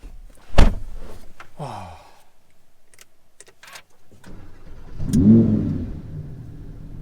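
A Lamborghini Huracan EVO gives a short, throaty engine rev near the end, preceded by scattered clicks and a door-like thud inside the car, with quiet gaps between.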